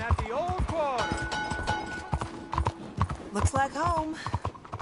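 Horse hooves clip-clop in a steady rhythm in a video game as the rider arrives at an old quarter, close and clear with game music tones, while a voice talks over the hoofbeats.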